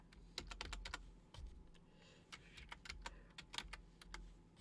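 Fingers tap out a short burst of quick clicks on a computer keyboard, then a few more scattered keystrokes, faint and close with a low hum underneath.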